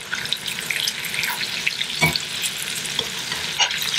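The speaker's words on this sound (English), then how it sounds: "we'll add a little bit more butter to our pan" Mahi mahi with small peppers and mushrooms frying in butter in a pan, a close steady sizzle with stirring and clinks and no talk.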